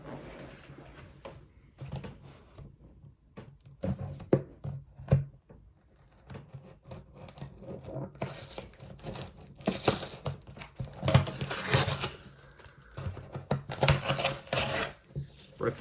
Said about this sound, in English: I got some scissors. Let's cut this open.